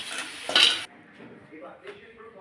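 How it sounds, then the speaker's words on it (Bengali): Shredded cabbage gets stirred in a pan with a metal utensil, scraping and clinking loudly at first, then softer shuffling and light taps. "বাঁধাকপিটা দিয়ে একটু নেড়ে নেবো"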